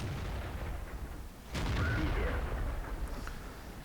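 A tank cannon fires in World of Tanks: one loud, sharp boom rising out of steady low battle rumble, with a long rolling tail afterward and no voices.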